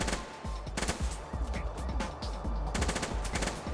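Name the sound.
minigun firing in the video game Hordelicious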